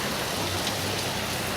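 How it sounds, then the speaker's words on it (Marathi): Heavy monsoon rain falls during a motorcycle trip near Lohagad, a dense, even hiss of drops that stays constant through the short moment. "भाई असा खतरनाक पाऊस आला आहे ना"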